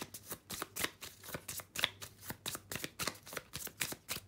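Tarot cards shuffled by hand in quick, rhythmic riffles, a dense series of crisp papery flicks, close but fairly quiet, with no talk.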